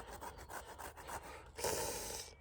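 A hand grater scrapes food outdoors at a campsite, with quick rhythmic rasping strokes close by, then a brief harsher scraping burst before it stops.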